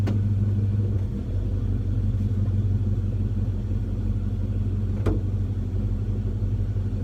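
A 1967 Chevy C10 pickup's engine runs at a steady low rumble from inside the cab during a drive, with constant road noise and a brief knock near the end.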